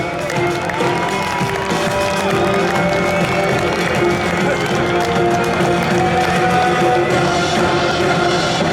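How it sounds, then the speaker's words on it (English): Airshow crowd at the Red Deer Airshow applauding Snowbirds team members, a steady wash of clapping and cheering that runs the whole time, loud and dense, beneath an announcer's voice and other sound. "Let's give them a big round of applause."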